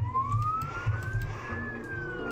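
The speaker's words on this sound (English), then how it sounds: "All right, sirens are on." A rising electronic police siren wail in Roblox Jailbreak sweeps steadily upward over a low engine rumble, continuous and fairly prominent.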